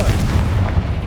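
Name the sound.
Confringo blast spell exploding, Hogwarts Legacy video game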